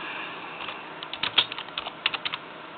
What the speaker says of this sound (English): Can't type fast with one hand.